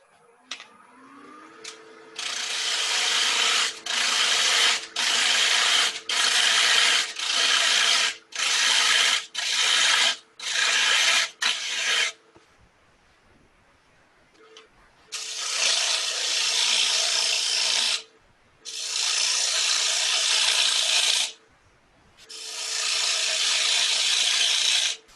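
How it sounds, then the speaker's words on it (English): Bowl gouge cutting into a spinning wooden bowl on a lathe, loud sustained scraping roars in repeated strokes of a second or so, then a quieter gap before several longer cuts, with motor hum between and no talking. "just got to get rid of some wood here now"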